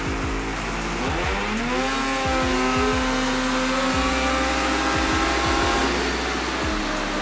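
An Arctic Cat 858 snowmobile engine on a dyno after break-in, revving hard and loud, its rising and falling whine sweeping up and down in repeated throttle pulls over a constant roaring drone.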